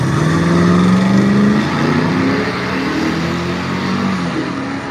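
Two Chevy drag trucks, a C10 and an S10, race side by side at a drag strip. Their engines roar loudly and steadily as they accelerate, the pitch climbing and then holding for several seconds.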